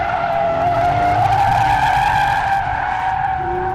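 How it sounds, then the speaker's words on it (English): A Hyundai Genesis Coupe drifts sideways, its tyres letting out a loud, continuous skidding squeal over engine noise, held steadily for several seconds with no talking. "the rate of lateral slip during high yaw events, or basically what we like to call drifting"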